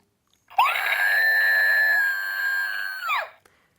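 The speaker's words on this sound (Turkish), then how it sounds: "bu çığlık atan bir salatalık" A screaming cucumber squeeze toy lets out one long, loud, shrill sustained shriek of about three seconds, rising at the start and dipping at the end, alone in near silence.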